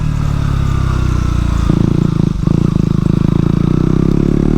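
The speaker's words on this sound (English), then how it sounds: "I'm going to cruise through with this Arrow exhaust" A motorcycle with a loud Arrow aftermarket exhaust rumbles close by in a village, its deep throbbing note rising as it revs and pulls away.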